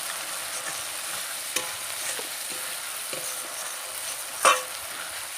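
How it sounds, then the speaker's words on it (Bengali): Spiced potatoes fry in a pan with a soft, constant sizzle while a spoon stirs them in occasional scraping strokes, ending with one sharper clink against the pan; no one speaks. "আবারও আমি মশলার আলুটাকে আর কিছুক্ষণ নাড়াচাড়া করে নেব।"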